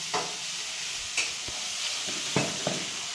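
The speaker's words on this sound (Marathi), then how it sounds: "जिरी मोहरी मस्त लसूण कोथिंबीर मिरचीचं वाटण आहे छान आता परतून घ्यायचं" A paste of green chili, garlic and coriander with cumin and mustard seeds sautés in a pan, giving a soft, steady sizzle broken by a few sharp crackles and stirring scrapes.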